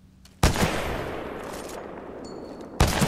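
A sniper rifle shot in Titanfall 2 cracks out loud and close, then a long reverberant tail follows, and a second sharp shot hits near the end.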